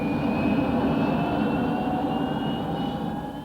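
A jet aircraft takes off inside a military flight simulator, a steady loud roar with a rising whine holding for several seconds, no voices over it.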